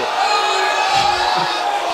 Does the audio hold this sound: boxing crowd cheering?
yes